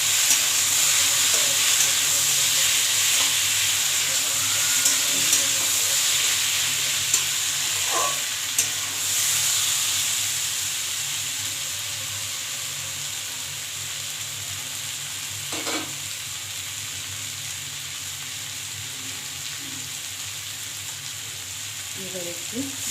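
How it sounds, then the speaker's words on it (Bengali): Bitter gourd and potato fry in oil in a pan with a steady loud sizzle, and occasional scrapes and clinks of stirring break through the constant hiss. "নাড়াচাড়া করে দিলাম একটু।"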